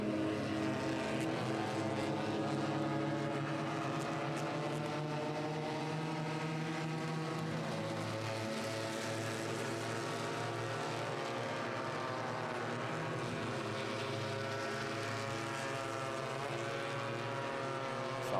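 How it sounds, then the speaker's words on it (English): Renault Twingo race cars on track during a circuit race at Most, their engines droning continuously with rising and falling tones as several cars pass, a loud sustained mechanical roar without a break. "he's now together with Miha Fabian in that pale blue Twingo"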